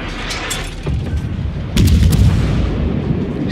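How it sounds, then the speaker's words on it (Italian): Heavy naval gunfire rolls across a World of Warships sea battle, with booming salvos landing around the cruiser Duca d'Aosta, a loud blast hitting near its end and dense rumble in between. "Mi stanno sparando."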